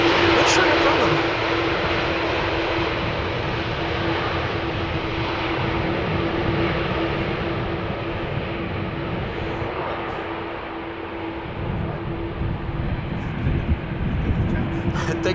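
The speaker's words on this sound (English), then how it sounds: "that was KLM Flight 652 that has just landed, an A330-200 arriving from Washington" A KLM Airbus A330-200 landing at Amsterdam Schiphol gives a steady broad jet roar with a faint sustained tone, loud and continuous throughout, while a voice talks over it.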